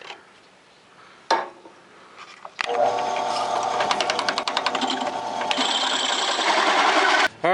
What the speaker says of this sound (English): Let's see if this little hole saw will cut through 3/8 thick stainless steel all 4 times.